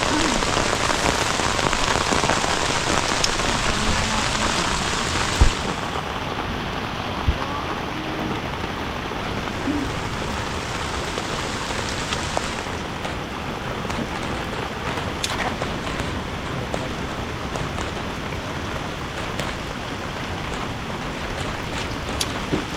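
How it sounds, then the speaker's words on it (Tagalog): Heavy rain pours down steadily and loudly, a dense continuous hiss of drops striking surfaces that fills the whole scene with no pauses. "Palakas ang ulan."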